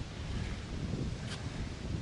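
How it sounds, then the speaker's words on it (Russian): Wind buffets the microphone with a low, continuous rumble and gusty roar, steady throughout, outdoors by flooded lakes in Tomsk Oblast. "Ветер поднялся"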